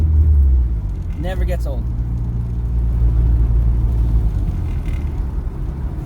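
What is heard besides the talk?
turbocharged K-swapped Starion turbo spool and blow-off valve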